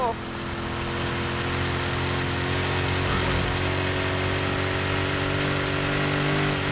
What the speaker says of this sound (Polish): Kocham ryk tego silnika!